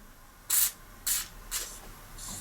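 Four short hissing bursts from a spray can of lubricant aimed at a noisy lawn mower freewheel, each under half a second, the first two loudest and the last two softer, close by.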